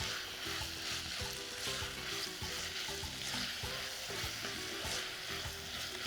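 Onions and tomatoes sautéing in a pan for biryani, a steady close sizzle with repeated spoon scrapes and stirs throughout, no speech.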